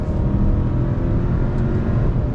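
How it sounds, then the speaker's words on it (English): A 2022 Hyundai Santa Cruz Limited pulls away with its 8-speed gearbox under paddle shifting, a loud, steady engine drone heard from inside the cabin, with road rumble beneath and no talk. "Smooth shifts from the 8-speed, whether you're shifting up or shifting down, just like I did there"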